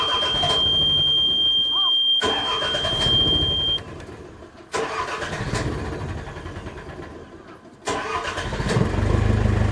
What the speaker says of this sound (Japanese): はい、じゃあエンジンかけていきます。